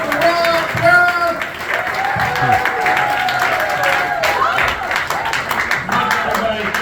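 A comedy club audience claps and cheers for a comedian taking the stage, steady dense applause throughout with an emcee talking over it.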